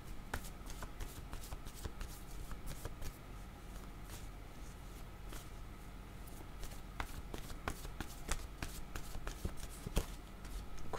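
Tarot cards being shuffled by hand, soft rapid riffles and papery flicks with scattered sharper clicks, quiet and close, continuing without a break.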